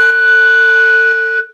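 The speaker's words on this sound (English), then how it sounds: "The other options were a multiphonic." A recorder played as a multiphonic, sounding two clear pitches at once over a breathy haze: a loud, steady sustained chord held for over a second before stopping abruptly.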